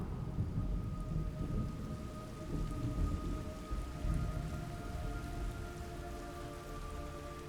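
Steady heavy rain pours in a Metal Gear Solid Delta: Snake Eater game scene, with low rolling thunder rumbling continuously underneath; a sustained dense wash with no speech.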